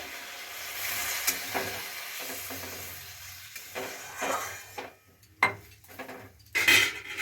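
Water poured into a hot pan of frying spice paste, sizzling and bubbling, with a spoon stirring and scraping against the metal in short bursts.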